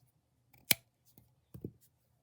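Scissors snipping through crochet yarn in a few quick, close clicks, one sharp cut followed by a couple of softer double snips, in a quiet room.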